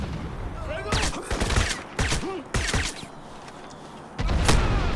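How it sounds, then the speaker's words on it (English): Bursts of FY-71 assault rifle fire in the video game Crysis, sharp cracking volleys separated by brief pauses, loud and close, with a heavier blast near the end. "The most common assault rifle in the game is the FY-71"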